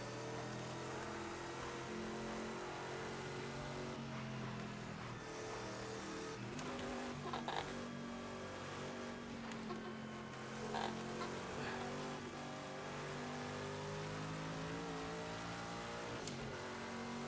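A race car in Project CARS 2, lapping Le Mans in its 1989 layout with the engine droning steadily at high revs, rising and falling through gear changes, with faint tire noise and no talking.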